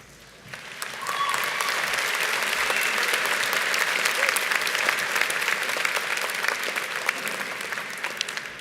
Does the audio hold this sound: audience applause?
yes